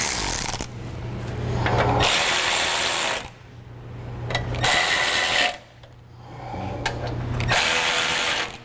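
A hand tool tightens the bolts on mesh covers for a Go Rhino BRJ40 front bumper on a Jeep Wrangler JK, in three close bursts of ratcheting and rubbing separated by short pauses.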